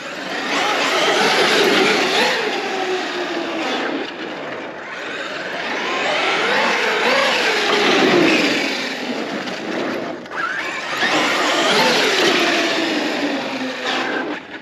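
Traxxas XMaxx RC monster truck fitted with an M2C motor and ESC drives in loud, continuous bursts, its electric whine rising and falling in pitch across several passes and wheelie runs, close to the microphone.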